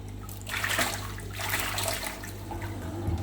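A repaired HQB 2500 pond pump with a fixed impeller runs submerged, churning and bubbling water in a continuous close, loud gush with surging pulses, no voices over it.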